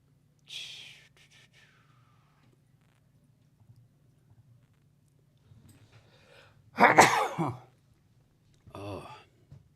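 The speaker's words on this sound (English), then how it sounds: "Bless you." A single sharp, loud sneeze bursts out from a person in a quiet room during a game jam session, preceded and followed by brief, soft talking and faint background noise.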